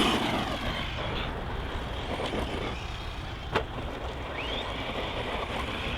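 A Maverick Quantum 2 Flux RC car running on 2S power off the beaten path, with a steady electric whine under strong wind noise and one brief knock partway through.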